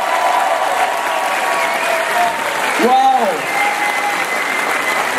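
Large outdoor crowd applauding French participants at a human-wave event, dense sustained clapping throughout, with a voice exclaiming partway through.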